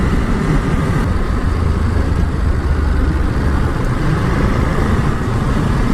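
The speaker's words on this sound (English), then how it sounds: "Just love cracking that throttle open" A Ducati Monster motorcycle engine roars steadily and loudly as the throttle is opened, with dense continuous exhaust and engine noise and no talk.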